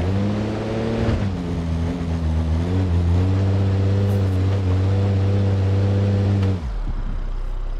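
A Mercedes-Benz SUV engine in GTA 5 revs hard in sports mode, a loud steady drone that climbs in pitch, holds high for several seconds, then drops away near the end.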